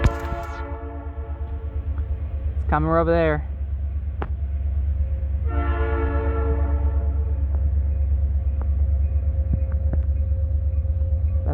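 A Norfolk Southern train's horn sounds in two loud blasts, short then longer, over a continuous low rumble of the train passing close by, with people talking over it.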